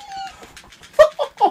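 A chicken clucking in a GameCube video game, a short run of bird-like squawks and clucks that rises into three louder, sharper calls near the end, close and without talk.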